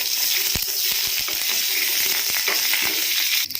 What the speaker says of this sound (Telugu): 1/2 టేబుల్ స్పూన్ జీలకర్ర వేసుకొని ఫ్రై చేసుకోవాలి